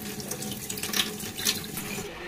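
Water runs steadily from a tap into a cooking pot for boiling mutton, a continuous close splashing stream lasting a couple of seconds with no talk.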